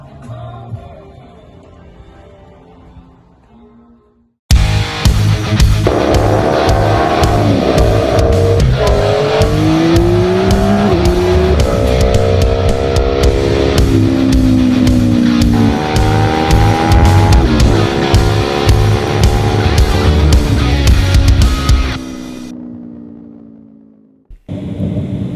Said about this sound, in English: I am test riding the phenomenal Yamaha R9. Absolute weapon of a sports bike.